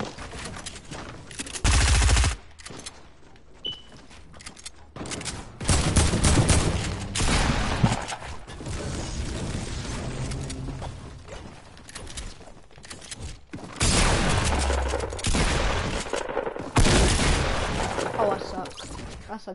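Video game gunfire in several loud bursts of shooting separated by quieter stretches, with a voice talking between them.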